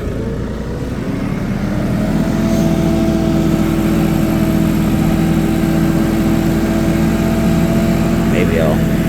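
A Kioti NS 4710 tractor engine runs with a steady, loud mid-pitched drone that rises after the first couple of seconds and holds, with a voice talking briefly over it.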